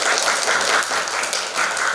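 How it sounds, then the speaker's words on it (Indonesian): An eleventh-grade pharmacy class claps together in a classroom, giving a short, loud burst of many hands that lasts about two seconds and fades slightly at the end. No voices are heard over it. "Tepuk tangan sekali."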